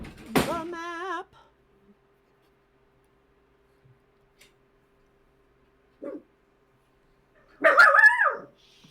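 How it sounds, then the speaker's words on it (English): A dog barks in a short burst of yelps near the start, then falls quiet apart from a faint thump, before another loud, close bark or yelp near the end. "My dog is the noisiest dog ever."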